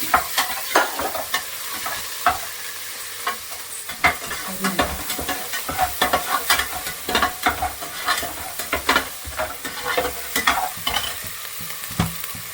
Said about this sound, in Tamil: இப்போ கிண்ட போகிறோம்